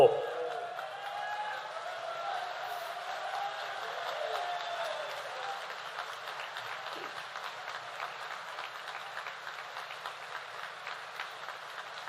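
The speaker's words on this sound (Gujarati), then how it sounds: "એકવાર બધા ઊભા થઈને એના માટે તાળીઓના નાદ વગાડો." A temple audience at a religious festival stands and applauds, a dense sustained clapping from a large crowd that fades gradually, with a voice speaking briefly under it.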